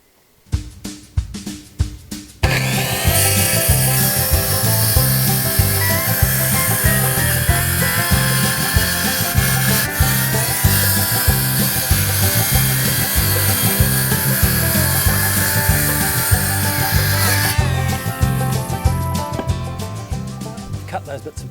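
A saw cuts triboard panels to size for a garden shed floor, running loud and steady for about fifteen seconds with a harsh, buzzing drone, after brief quiet handling noises and a few knocks at the start.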